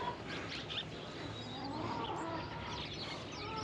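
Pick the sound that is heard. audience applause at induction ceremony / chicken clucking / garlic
chicken clucking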